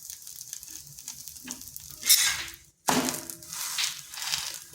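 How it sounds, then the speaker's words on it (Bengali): Vegetable pieces coated in semolina sizzle in hot oil, a close, crackling fry with bursts of louder spitting and a brief silent gap partway through. "এইভাবে ভেজে নিচ্ছি।"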